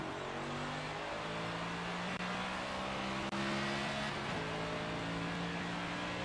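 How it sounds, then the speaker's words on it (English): Steady, droning engine of a Cup race car at Texas in the NASCAR 25 video game, holding a high continuous tone that shifts pitch a few times as it winds up, with no talking. "try to get the engine wound up"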